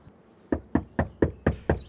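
Knuckles rap on a house's front door: six firm, evenly spaced knocks in a steady rhythm, close and clear against a quiet background.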